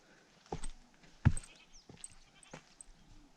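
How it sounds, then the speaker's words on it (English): Goats bleat a few times outdoors near Kalbarri, short faint calls spaced irregularly over about three seconds against quiet background. "That's goats."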